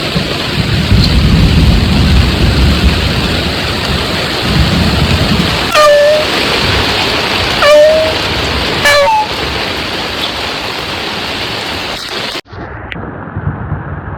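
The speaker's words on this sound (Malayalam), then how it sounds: "അപ്പോ മഴ ശക്തമായി പെയ്തു കൊടുക്കാട്ടോ. ഇടിയ മിന്നലൊക്കെ ഉണ്ട്." Heavy rain pours with thunder rumbling over it, a loud, steady wash of rain near the listener with deep low rolls, broken by a few sharp tones and an abrupt cut near the end.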